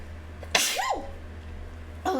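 A single sharp, close sneeze bursts out, followed by a short voiced tail and a quieter breathy sound about a second and a half later, set against a low steady hum.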